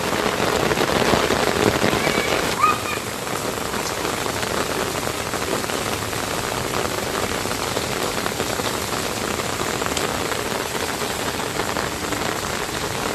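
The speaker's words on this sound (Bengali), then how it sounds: "ব্যাপক বৃষ্টি হচ্ছে।" Heavy storm rain pours down steadily and loudly with no letup, a dense wash of drops hammering surfaces close by, with no voices.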